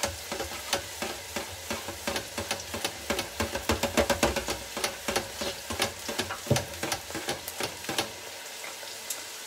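Chayote keto fries sizzling and bubbling in hot frying oil, a steady crackle with frequent sharp pops and stirring clatter close up, no voices.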